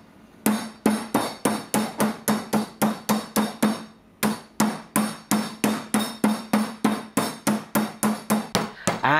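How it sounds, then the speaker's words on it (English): Meat tenderizer pounding thin beef slices flat for German rouladen, a rapid, even series of about thirty close, solid whacks on a board, pausing briefly midway before resuming. "I want to extend it a little, so I give it a few more whacks with my meat tenderizer"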